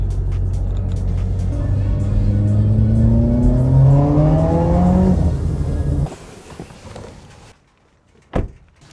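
A Mitsubishi Evo's engine rises steadily as the car accelerates up through the revs, loud and close, then cuts off abruptly, followed by quiet and a single car door thump.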